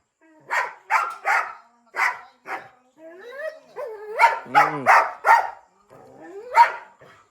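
A dog barks in a quick series of sharp, close barks, with whining yelps in between and short pauses.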